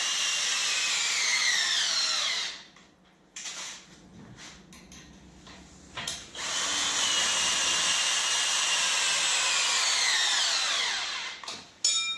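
A cordless drill tightening parts while assembling a power trowel whines at high speed in two long bursts, with short pauses and some clinking in between, close and loud.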